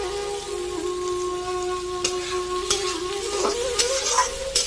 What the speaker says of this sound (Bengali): তো এখন এটাকে ভীষণ ভালো করে ভাজতে হবে